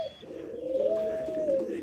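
A pigeon gives a single soft, drawn-out coo near a loft after the birds' bath, one rising and sustained call standing alone.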